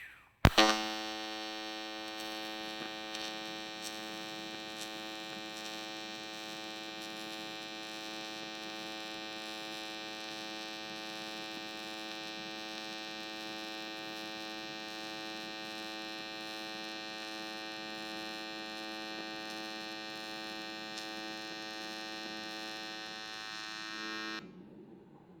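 Lightning 212 TIG welder running a flat bead on aluminum plate: a steady, loud electric buzzing hum that strikes abruptly, holds evenly for over twenty seconds, then cuts off, with no voices.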